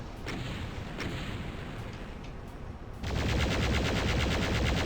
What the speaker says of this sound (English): Plasma rifle is an effective weapon at this range.